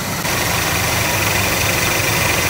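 An old car started after about 15 years unused idles smoothly with its air cleaner off, a steady, close engine drone with a low rumble and even rhythm throughout, no voices.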